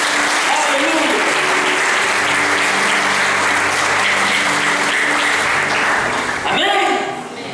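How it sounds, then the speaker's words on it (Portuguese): A church congregation applauds, with thick continuous clapping and a sustained musical hum underneath, before the clapping fades out at the end. "Pode acreditar e dar um aplauso ao Senhor."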